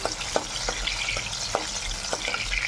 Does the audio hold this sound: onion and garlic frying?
yes